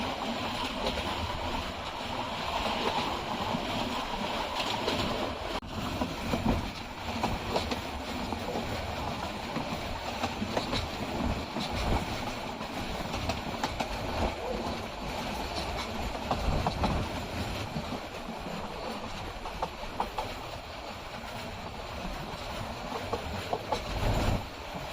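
A Titas commuter train rolls past a small substation near Jinardi on the Dhaka–Narsingdi line, its steady rumble and faint wheel clatter droning continuously from on board, with a brief sharp click partway through.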